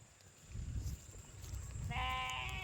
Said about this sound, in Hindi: देखिए हम आ गए हैं भेड़ चराने।